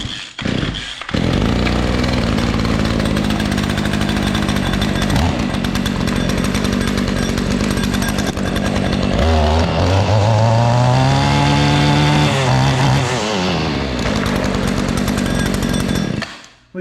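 A Stihl FS94R two-stroke string trimmer engine runs loud and close, holding a steady buzzing idle before revving up and down in rising and falling surges, then cutting out at the end.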